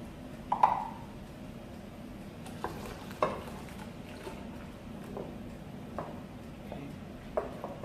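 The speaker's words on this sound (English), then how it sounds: "You're going to keep on stirring it until it forms." Quiet, intermittent scraping and knocking of a spoon stirring thick Hausa koko porridge in a saucepan, with soft taps at irregular intervals over a faint bubbling hiss.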